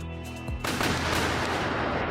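A Trident Mark II anti-aircraft cannon opens fire with a sudden loud burst of rapid, closely spaced shots that keep going in a dense roar, just after a brief lead-in of steady tonal sound.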